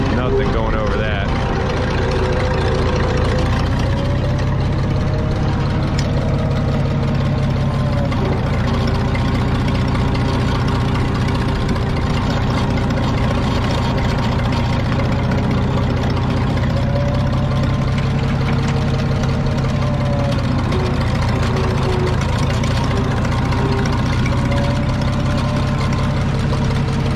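A Minneapolis Moline G950 tractor engine runs steadily close by at a loud, even idle-to-working pitch for the whole stretch, with slight load changes and no break in the drone.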